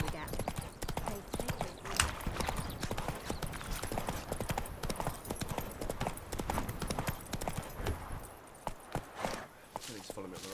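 Horse hooves clip-clop steadily at a gallop in The Witcher 3, a continuous rhythmic pounding close up, with a voice speaking over it at times.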